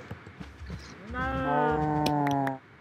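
A Minecraft cow lets out a single drawn-out, tonal moo, close and clear after a few soft clicks, with no talking.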